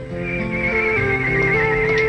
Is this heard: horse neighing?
yes